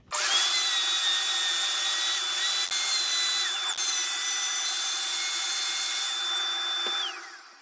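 A power drill runs steadily for several seconds, pre-drilling countersunk bolt holes in a wooden router plate, loud and close with no talking.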